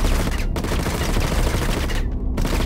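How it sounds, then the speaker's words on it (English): Dense, continuous gunfire from a Star Citizen battle royale match, loud and sustained throughout with rapid overlapping shots and brief gaps near the start and end. "I hear the shots, I don't see anything."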